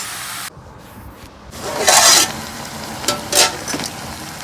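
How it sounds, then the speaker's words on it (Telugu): Turmeric being stirred into a chicken curry in a pan, with a few short bursts of sizzling and scraping spoon strokes over a quiet background, close by and moderately loud. "పసుపు వేసేసుకొని కలుపుకుందాం"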